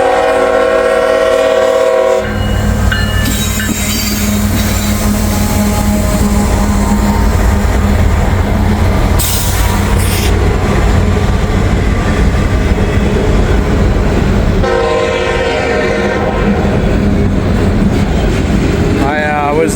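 Freight trains rip past in Walton with a loud, continuous rolling rumble and the clatter of railcars, broken by repeated horn blasts near the start and again later.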